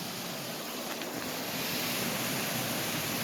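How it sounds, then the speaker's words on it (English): Creek water flowing under a bridge at Aguas Buenas, Puerto Rico, heard as a steady broadband rush with a wind-like hiss, fairly loud and continuous, with no voices. "there's like a creek here,"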